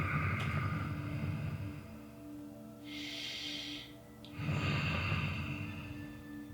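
Deep breaths taken while holding a side stretch, with two long, loud, airy exhales separated by a quieter inhale, close to the listener.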